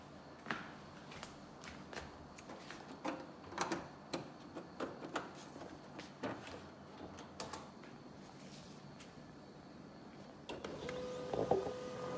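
A Canon 2900 laser printer running a test page after a paper jam was cleared, giving off a string of short mechanical clicks and clacks at close range, with a louder whirring feed near the end.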